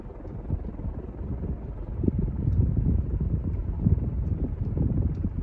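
A 36-inch Sigma ceiling fan spinning at full speed, close up, giving a steady low rushing whoosh of moving air with faint buffeting, continuous and fairly quiet with no voices.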